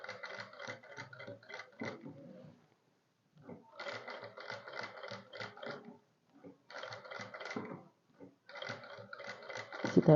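A sewing machine stitches a traced design on fabric in repeated short runs, its needle clattering in a fast rhythmic patter broken by brief pauses.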